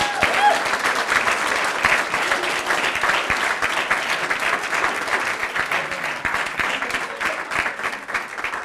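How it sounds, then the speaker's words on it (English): A city council chamber audience applauds the first girls' soccer team from Havre de Grace High School to win a state championship, with steady, dense clapping that stays loud throughout. "that deserves a round of applause"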